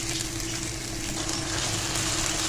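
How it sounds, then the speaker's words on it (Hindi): Masala for sarson ka saag fries in oil, giving a steady, close, loud sizzle that runs without a break throughout, with no voices. "और अब हमने इसकी भुनाई जो है ना वो बहुत अच्छे तरीके से करनी है"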